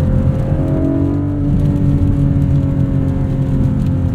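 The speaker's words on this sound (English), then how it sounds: "it has so much more character and personality with this flat 6. This sounds like a Porsche should sound." A 2024 Porsche 718 Cayman GTS 4.0 with PDK, its flat-six engine heard from inside the car as a steady, loud, low drone with a smooth tonal hum that rises gently, alone without talk.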